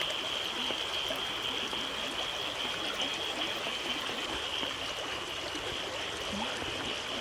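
Floodwater rushes over a road in Kerala during heavy rain in a steady, continuous broadband roar, like a current flowing strongly and evenly, with no pauses or voices.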